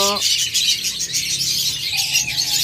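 Rainbow budgerigars in a bird shop chirp and squeal in a dense, continuous high-pitched chatter close by, a brief whistle-like tone standing out near the start and again toward the end.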